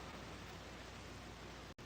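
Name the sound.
rain falling outside a porch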